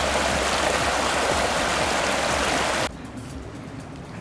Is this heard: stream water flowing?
yes